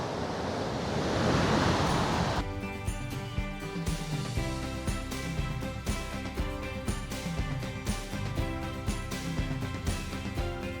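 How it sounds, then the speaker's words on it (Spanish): A river's lower falls in the Canadian Rockies send out a steady, broad roar of rushing water for about two seconds. Music then comes in over it and masks it for the rest of the clip. "Me parece que la cascada Lower era esta, Belu,"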